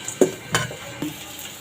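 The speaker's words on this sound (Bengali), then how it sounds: "তারপরে একটু ভালোভাবে এগুলো নেড়ে চেড়ে নেব।" Mola fish with chopped onion and green chilies stirred in a frying pan: a few short utensil scrapes over a soft sizzle, close and without talk.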